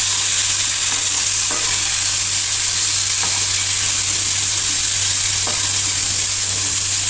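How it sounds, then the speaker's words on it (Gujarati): Gunda gum berries are stirred in hot oil with cumin, hing and turmeric for a pickle, producing a loud, steady frying hiss with a low hum beneath and a few faint scraping taps. "ત્યારબાદ હિંગ નાખવાની છે હળદર નાખશું લાસ્ટમાં ગુંડા બરાબર મિક્સ કરશું"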